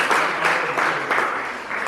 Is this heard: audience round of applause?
yes